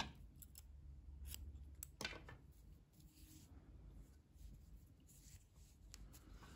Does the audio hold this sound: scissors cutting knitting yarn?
yes